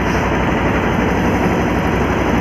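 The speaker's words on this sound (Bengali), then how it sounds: "আর এই ফেরিঘাট থেকে লঞ্চ ছেড়ে দিয়েছে, আমরা বেরিয়ে পড়েছি লঞ্চের মধ্যে দিয়ে।" A ferry launch's engine runs steadily after leaving the ferry ghat, a continuous low, heavy rumble with broad vibration filling the whole stretch, close and loud with no talk.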